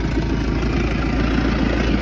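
A Mercruiser Alpha One Gen 1 boat engine idling while run in a test bucket, a steady low throbbing rumble, close and loud, with no talk.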